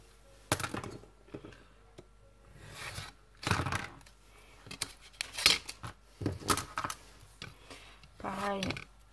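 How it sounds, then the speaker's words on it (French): Scissors snip through fabric for a sewn backpack in several short, crisp cuts spaced across the moment, close and fairly loud, with a little soft speech between them. "Hop, je coupe."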